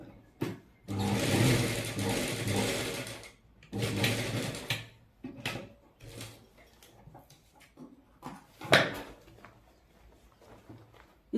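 A sewing machine stitches a seam in leftover fabric, whirring in bursts of a few seconds separated by pauses, with fabric handling and small clicks between runs, close and fairly quiet.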